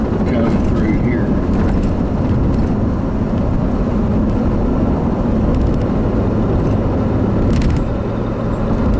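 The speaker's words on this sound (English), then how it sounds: "there's a train in town too. That's what this is railroad track traffic" Rail traffic rolls through a town, a broad, heavy rumble with steady low-end noise that holds at a consistent level throughout, heard from inside a moving car with road noise mixed in.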